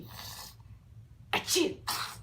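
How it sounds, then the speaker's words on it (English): A baby gives two sharp, close sneezes in quick succession after a brief quieter breath, over a faint low room hum. "Are you sneezy?"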